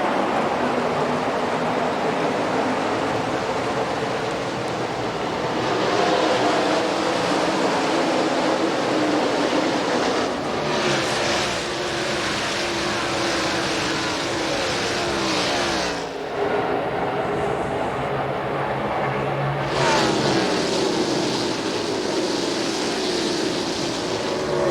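A field of NASCAR stock cars takes the green flag at the start of the DirecTV 500 in Texas, a dense continuous roar of many engines swelling and washing past with brief dips between waves.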